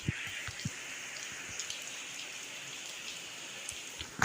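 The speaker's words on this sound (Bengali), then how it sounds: "এই যে দেখো এখন বৃষ্টি হচ্ছে" Rain falls outdoors, heard from just inside shelter as a soft, even hiss with scattered nearby drip taps, fairly faint and with no talking.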